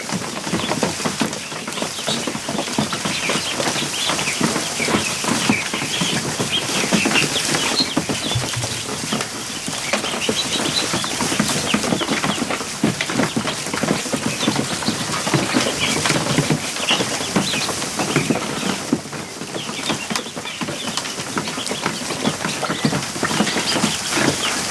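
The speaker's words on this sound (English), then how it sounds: "You can hear all the pounding on the plastic." Ducklings splash and thump against the sides of a plastic kiddie pool, a dense, continuous patter of pounding and flapping lasting throughout at steady volume, with no voices.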